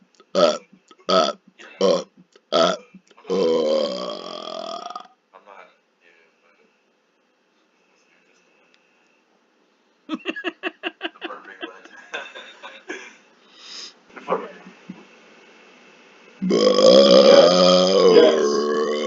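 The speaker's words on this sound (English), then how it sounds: "I call that the gulping burp, which I can do for rapid fire." A man produces a run of short rapid-fire gulping burps, four quick bursts, then longer drawn-out belches separated by silence, with more choppy burps and a final sustained voiced belch; talking mixes in between.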